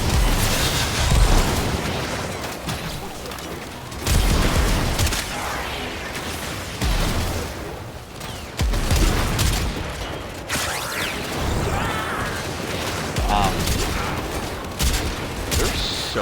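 Rapid full-auto hip-fire bursts from a gun in the sci-fi shooter Warframe, with loud dense rattling volleys and heavy booms close up, broken into several bursts over a fight against swarming enemies.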